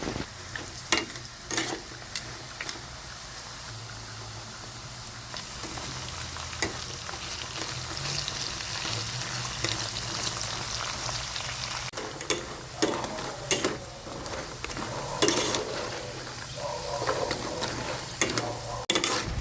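Pieces of cassava fry and get stirred in a hot pan, with steady sizzling and frequent scraping and clinking of the utensil against the pan, close up and without talk.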